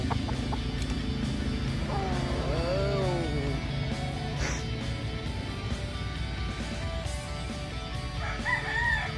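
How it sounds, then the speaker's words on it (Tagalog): A rooster crows over a steady murmur of clucking chickens and background noise, with another crow rising near the end. "Daming manok."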